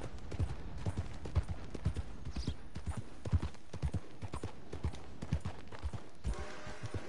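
Steady clip-clop of horse hooves trotting at a moderate pace in the video game Red Dead Redemption 2, crisp and close, with a faint voice now and then underneath.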